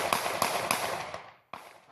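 Police gunfire at street protesters in Shiraz comes as three sharp cracks in quick, even succession, a fourth slightly later, then a final isolated shot after a short silence, loud and close with no talking.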